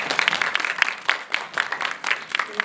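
Audience applause fills the hall at the close of a talk-concert dialogue session at a music festival in Tongyeong: steady, dense clapping from a mid-sized crowd, moderately near, with no voices over it.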